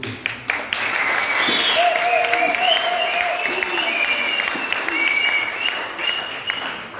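A church congregation at an anniversary Mass in the parish of Ekouk bursts into sustained, lively applause, dense and close, with a few cheers over the clapping for about seven seconds.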